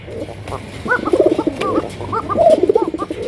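A Raj Golla pigeon coos close by in a few repeated, throaty rolling phrases, with faint background noise between calls.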